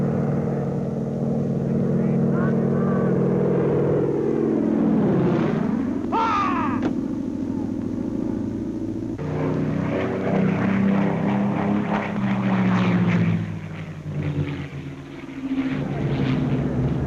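Low-flying propeller aircraft pass during an anti-aircraft drill with Bofors and heavy guns, their engine drone loud and sustained, swelling and bending in pitch as a plane sweeps past, then another roaring pass follows under narration.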